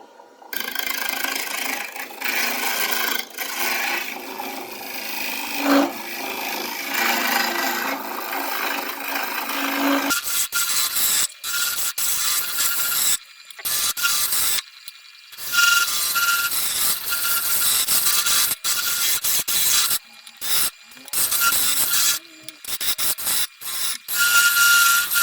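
A woodworking lathe spins a glued-up blank at about 1600 RPM, giving a steady, loud whirring drone throughout, with scraping and rubbing of the cut on wood and brief gaps where the machine noise drops.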